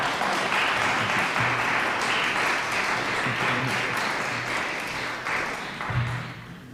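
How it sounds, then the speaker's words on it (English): Audience applause at a women's fellowship national church service, a steady, dense wash of clapping that fills the room throughout and eases slightly toward the end. "we'd like to applaud"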